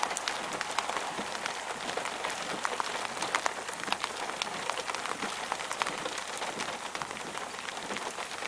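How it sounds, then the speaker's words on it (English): Steady, dense rain pours down in the wake of a monsoon thunderstorm in Tucson, Arizona, a constant close hiss and patter of drops with no let-up and no voices. "We can see the thunderstorm that just moved past us."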